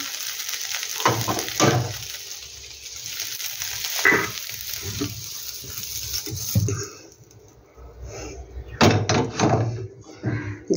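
Fried soybean chunks being lifted out of a pan: metal clanks and scraping come in uneven bursts over a faint background sizzle, with a louder clatter of cookware near the end.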